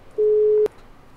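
A single steady electronic phone tone sounds once in a GTA roleplay game as a call is placed, holding for about half a second before cutting off with a click, alone and clear.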